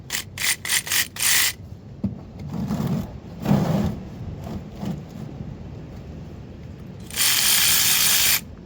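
Ratchet wrench with a 24 mm socket working on a third-generation Eclipse during a clutch replacement, loud close bursts of rapid clicking separated by grinding turns and a long final ratcheting run.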